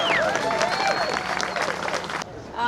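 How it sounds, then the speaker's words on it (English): Crowd applause and cheering at an outdoor statue dedication and unveiling, steady clapping with whistles and voices mixed in, cutting off abruptly near the end. "A round of applause for the dedication and unveiling of"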